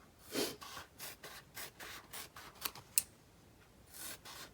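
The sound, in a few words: cutting strips of foam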